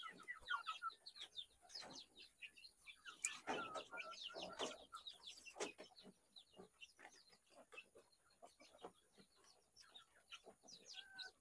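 A group of three broody hens kept together in a coop, clucking and chattering softly in a steady, overlapping stream of short calls, close by but quiet.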